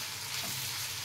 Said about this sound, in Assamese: ৰাতিপুৱা কি ভাবিলোঁ এটা টিফিনৰ কাৰণে আলু ভাজি আছোঁ